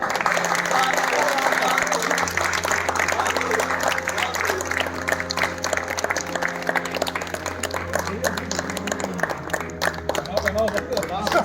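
Applause from an audience at a retirement-day function, steady crowd clapping mixed with chatter and voices throughout, near and fairly loud.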